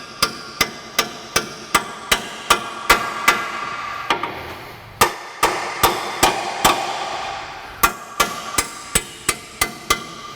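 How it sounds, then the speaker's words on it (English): Steel hammer tapping a bolt through the rear wheel bearing hub of a 2004 Ford Explorer, a long run of sharp, evenly spaced metallic strikes, close and loud, with a brief pause midway and no talking. "A few taps should get it through."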